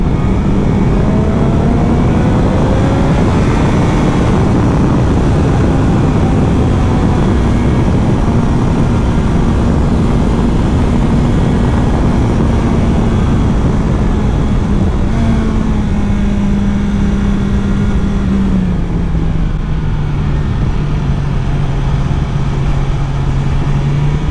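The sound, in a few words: BMW S1000XR motorcycle engine revving high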